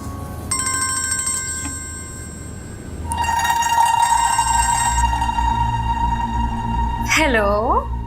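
A telephone ringtone plays as a bright, repeating electronic melody in a domestic setting. It stops briefly, then resumes louder and steady for several seconds before ending in a warbling sweep.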